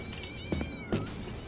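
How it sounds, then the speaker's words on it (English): A cat screams in the video game Postal 2, with two sharp yowling bursts rising over a dense, steady game soundscape of ambient noise and tonal background sound. "the cat screaming is just doing a number"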